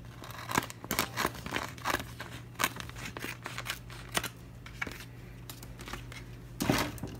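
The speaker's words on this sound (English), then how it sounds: "I'm just going to cut off the section where it cut." A section of Cricut vinyl sheet is cut off with a series of short, crisp snips and light crinkling, repeated at an uneven pace close to the microphone over a low steady hum.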